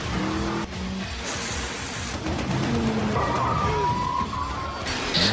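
A racing car slips on sprayed oil during a deadly race, its tires squealing and skidding in short bursts over a constant engine and crash-laden roar.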